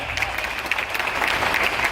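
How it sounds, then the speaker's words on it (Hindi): Audience in a hall applauding together for a guest doctor at a health products company plan presentation, a dense, steady clapping that holds for two seconds with no voices over it. "एक बार जोरदार ताली डॉक्टर भट्टी जी के लिए हो जाए"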